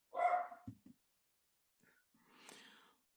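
A dog lets out a short, sharp bark at the start, followed by a couple of faint thumps and a soft breathy rustle after a long pause. The whole scene is quiet and sounds indoors.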